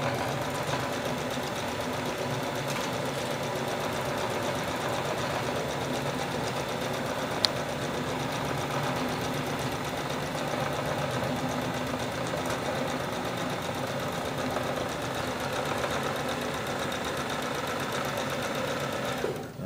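A sewing machine stitches fabric in a continuous, even mechanical whir with a fast rhythmic needle chatter, steady and close, with no talking over it.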